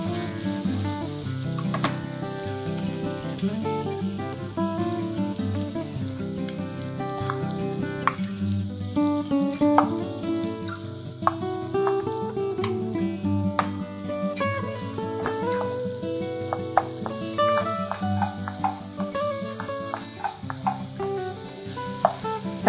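Tomatoes frying and softening in a pan for a mutton curry, a steady close sizzle with intermittent stirring clinks and scrapes throughout.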